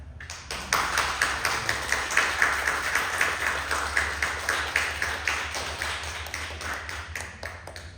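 Applause from a gathered audience, steady rhythmic clapping filling the room for several seconds with no talking.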